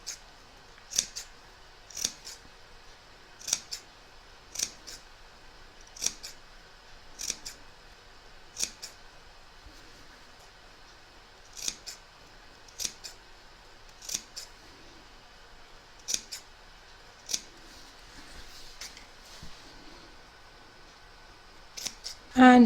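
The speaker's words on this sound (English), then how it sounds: "So I'm going to start with the edge, and you're just going to go around and just trim." Sharp scissors snipping around the fabric edges of a rag quilt, close crisp cuts repeating at a steady, unhurried pace every second or so over a quiet room.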